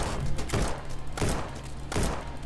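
Three bursts of video-game gunfire from Starbound, spaced roughly every 0.7 seconds, each a sharp broadband crack over a steady low background rumble, with no talk.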